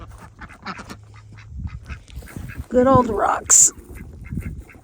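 Ducks quack and honk in a cold, frozen yard, a short burst of loud calls in the middle, with someone talking nearby before and after.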